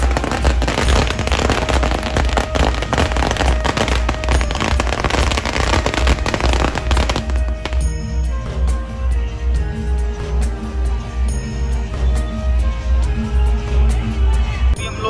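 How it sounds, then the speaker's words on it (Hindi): Dense crackling and popping of fireworks at a crowded religious road show in Baran district, India, fills the air continuously, loud and close, with a noisy crowd atmosphere underneath. "आतिशबाजी हो रही जो"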